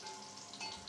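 Soaked breadfruit fries in a pot of oil with a steady, soft sizzle and crackle, close but quiet, with no voices.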